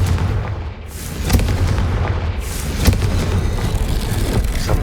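A Confringo fire spell explodes in the Hogwarts Legacy video game: loud booming blasts land at irregular moments over a continuous rumbling, crackling battle background, with no voices.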